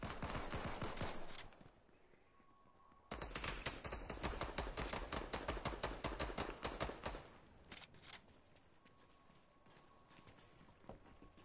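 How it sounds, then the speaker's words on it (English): Machine pistol fire in a video game, a fast rattling stream of shots lasting several seconds with brief pauses and a few scattered single bursts, heard fairly quietly with no talking. "The machine gun pistol thing. I hate that gun."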